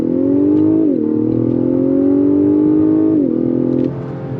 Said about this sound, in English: It really, the twin turbo setup spools up very quickly, gives you some nice torque delivery, and gets you off and running.